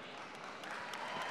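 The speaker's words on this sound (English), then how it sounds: "That deserves an applause." Audience applause at a Mary Kay sales seminar, a steady wash of clapping from a large crowd that holds at an even, moderately loud level throughout.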